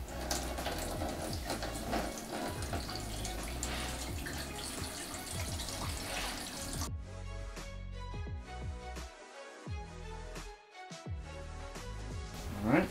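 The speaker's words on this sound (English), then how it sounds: "Next, we want to add in the water right here." Water runs and splashes steadily into a portable camping sink basin, then thins to a lighter pour with clinks and drips toward the end.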